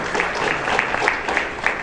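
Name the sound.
round of applause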